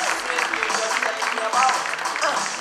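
Applause from an audience at a business awards ceremony, a short burst of dense clapping with crowd noise, continuous and fairly close.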